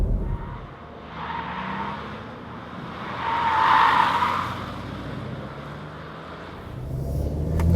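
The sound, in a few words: tires squeaking while cornering fast in a VW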